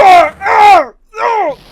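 Von Karma lets out three loud, anguished screams in quick succession in the Phoenix Wright: Ace Attorney video game, each a drawn-out falling wail with brief gaps, close and with no talk over it.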